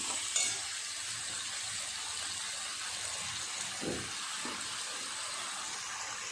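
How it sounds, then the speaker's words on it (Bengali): Vegetables for a vegetarian curry sautéing in a pan, a steady close sizzle and hiss with a few soft scraping stirs of a spoon partway through. "আবারও খুব ভালো করে কষাতে থাকবো।"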